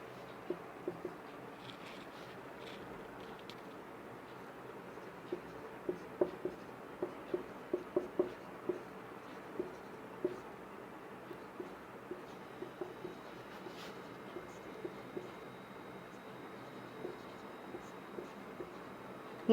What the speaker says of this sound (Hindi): एक और लिख लेते हैं।